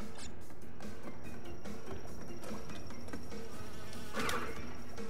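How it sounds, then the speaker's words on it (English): A bee buzzes in Crash Bandicoot N. Sane Trilogy, a steady insect drone running through the whole stretch alongside jungle game ambience and a few light effect sounds, with no talking. "Oh, that was really close with the bee."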